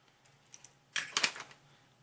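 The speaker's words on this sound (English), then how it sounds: "I'm going to trim this up with my scissors." Scissors trimming a piece of paper card while making a handmade thank-you card, a few quiet close snips and crisp cutting sounds in a short cluster, with no talking.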